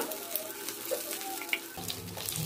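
Fish coated in turmeric frying in a pan, a steady soft sizzle with faint scraping stirs, followed by a lower, denser frying texture in the last second.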